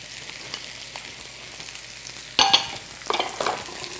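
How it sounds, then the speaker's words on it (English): Mushrooms and onion go into a hot pan to saute, with a steady faint sizzle underneath, then a sudden louder hiss and crackle as food hits the oil, followed by a few stirring scrapes. "now that I'm ready to saute everything, I add my mushroom. I'm going to add my onion."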